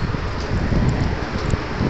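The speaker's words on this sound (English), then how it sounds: "it's really windy" Strong wind buffets the microphone atop a church steeple among ruins, a steady, loud rumbling roar with faint rustling, close and unbroken.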